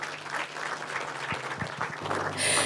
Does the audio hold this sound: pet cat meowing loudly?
no